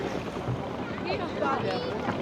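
A launch boat carrying cattle passes on the Buriganga river near Narayanganj with a low, steady engine-and-water rumble, close and continuous, under a voice talking.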